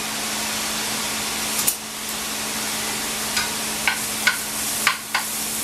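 Half a yellow onion sizzles in hot oil in a pan, giving a steady broadband hiss with a faint hum beneath and several light scraping clicks of stirring toward the end, close and continuous with no voices.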